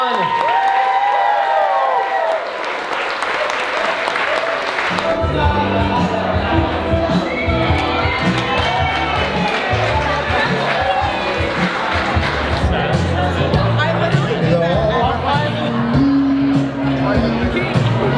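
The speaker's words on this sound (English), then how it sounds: "give a round of applause, everyone!" Wedding guests at a DJ-hosted reception break into loud applause and cheering, a dense roar of clapping, whoops and crowd noise that swells after a few seconds and carries on, with voices shouting throughout.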